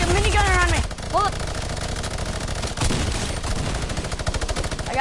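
Rapid minigun fire in a video game battle, a dense continuous stutter of shots running under excited voices calling out to each other, with brief pauses and bursts throughout.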